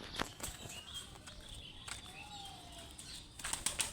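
Fantail pigeons on a rooftop take off and fly, with several soft, fluttering bursts of wingbeats heard faintly at a distance over quiet outdoor background.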